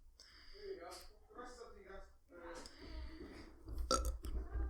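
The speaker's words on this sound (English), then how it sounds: "Oh, that was an awful burp." A loud, drawn-out burp rumbling through the middle of the clip, with people talking around it.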